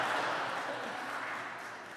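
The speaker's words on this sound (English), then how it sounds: "That was like I enjoyed my dinner applause." A symposium audience applauds politely, a brief even wash of many hands clapping that holds steady and fades slightly at the end.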